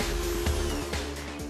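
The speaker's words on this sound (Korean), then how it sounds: "그 다음에 요 이제 조금 덜 거친 걸로 순차적으로 샌딩을 해서 광을 내는 거예요" A kitchen surface is sanded with coarse sandpaper during a kitchen remodel, giving a steady loud abrasive grinding roar with rhythmic surges, close up.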